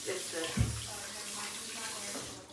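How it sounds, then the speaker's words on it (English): Tap water runs steadily into a kitchen sink as hands are rinsed during cinnamon roll baking, a constant wash of flow with a brief splash near the start. "Okay, rinse my hands off."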